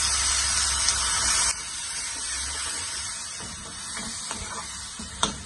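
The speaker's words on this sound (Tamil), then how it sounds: "தக்காளி நல்லா வதங்குது பாருங்க." Ground tomato sizzles in hot oil in a pan as chicken gravy cooks, a steady spitting hiss that drops quieter partway through, with a few light clicks of stirring near the end.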